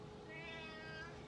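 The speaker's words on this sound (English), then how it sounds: "We have a noisy cat who really shouldn't be out here" A cat gives a single short, drawn-out meow in a metal-shaping workshop, faint and somewhat distant over a low background hum.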